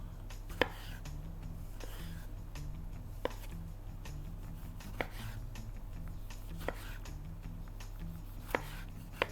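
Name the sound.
chopping tomato into slices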